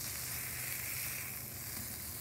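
Half-pound bacon burgers sizzle steadily on a hot Blackstone griddle just after flipping, a continuous broadband hiss at moderate level with no talking.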